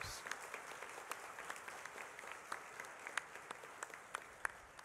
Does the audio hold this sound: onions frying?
no